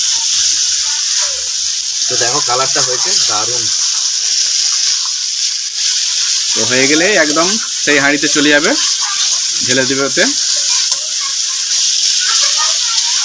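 Chicken mince sizzles steadily while being sautéed (kosha) in a pot for khichuri, a continuous hiss with someone talking over it in several bursts.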